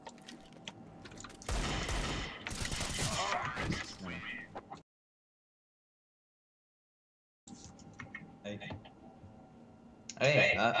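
Bursts of CS:GO gunfire ring out over lively talk between two players in a one-on-one match, with clustered shots early, a stretch of silence, then more sharp shots near the end.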